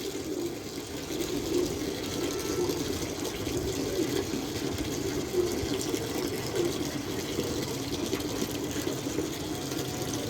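A tap runs steadily to give water to pigeons, a continuous, even rush and splash with no breaks for about ten seconds and no voices.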